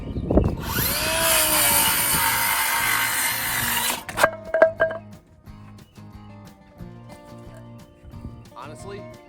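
Bauer power tool on a DeWalt battery cuts wood with a loud whining buzz for about four seconds, then stops, followed by quieter scraping and knocks with someone talking.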